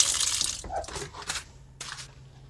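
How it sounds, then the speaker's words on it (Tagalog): Water sprays strongly from a shower in a campground shower room, with splashy bursts that rise and fall as the stream hits surfaces, fairly close. "Ayan, malakas ang tubig."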